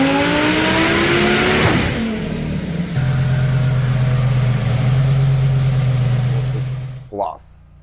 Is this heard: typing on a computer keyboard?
no